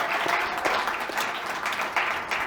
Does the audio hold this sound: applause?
yes